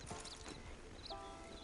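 Horse hooves clip-clop in the Red Dead Redemption 2 video game, a few faint, quick hoof strikes heard alone at low volume.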